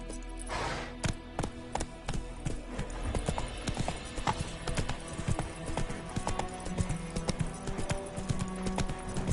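Hooves of the horse Roach clop in a fast, steady galloping rhythm in The Witcher 3, crisp and close, continuing throughout with a low background bed of game ambience.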